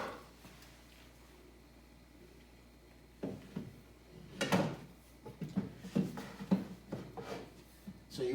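A wooden drawer is slid in and out on its guide in a woodworking shop, making scraping, knocking wood-on-wood sounds that start after a quiet stretch and repeat in uneven bursts.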